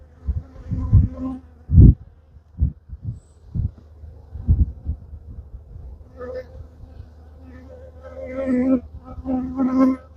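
Honey bees sick with chronic bee paralysis buzz close by in uneven, wavering bursts, with low thumps and rustling between them.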